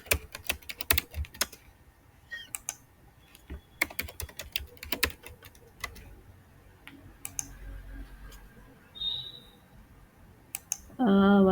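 Keys clatter on a computer keyboard while working in an Excel spreadsheet, bursts of close, quick typing and clicks, separated by pauses.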